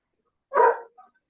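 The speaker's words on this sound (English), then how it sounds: "that's his bark" A poodle-mix dog gives one short, fairly loud bark, followed by a faint, brief yip, with quiet around it.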